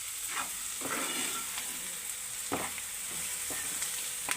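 Egg fry mixture sizzling in a hot pan while being stirred, continuous frying hiss broken by several scraping spoon strokes, close and steady with no talk.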